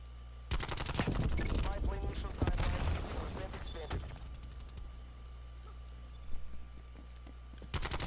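Bursts of rapid AK-74U automatic gunfire in Call of Duty Cold War rattle in quick succession, with sharp shot clusters and a later volley, mixed with game effects and brief voices.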